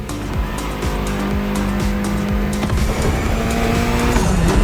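Mitsubishi inline four-cylinder car with 280 horsepower driven hard in the racing game The Crew, engine revving loudly and continuously with squealing tires and skids, close and alone.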